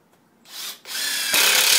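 A Milwaukee M18 impact driver whirs briefly, pauses, then screams steadily as it drives a 3-inch screw into landscape timber, growing louder and harsher toward the end.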